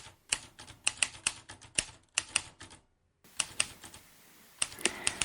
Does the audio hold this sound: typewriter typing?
yes